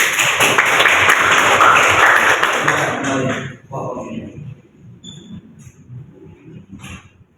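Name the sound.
applause from an audience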